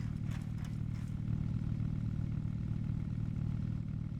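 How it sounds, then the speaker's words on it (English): A steady low engine hum drones continuously in the Scrap Mechanic survival game, with a few faint clattering ticks early on and no talking. "I hear an engine and I have no idea why I hear an engine."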